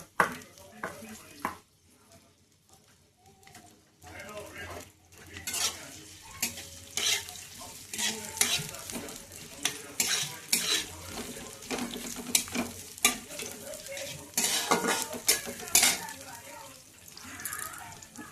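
Onion and bay leaf frying in oil in a pan on a gas stove, a close, uneven crackle and sizzle with scraping stirs that grows busier over time, someone talking now and then.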